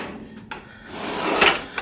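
A desk drawer in a home craft workspace slides open, a brief wooden scraping rumble building to a louder bump near the end, close by with no talking.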